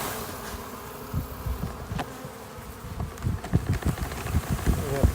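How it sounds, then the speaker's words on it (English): A dense swarm of bees buzzes steadily nearby, with bursts of louder humming and light bumps and rustling as they move about. "get us a cup of bees"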